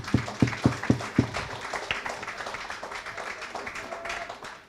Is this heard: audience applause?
yes